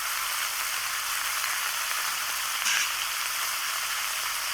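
Spices with salt, turmeric and chili powder sizzling and frying steadily in a pan for a Bengali fish curry of rohu with kohlrabi, a constant close hiss with no break.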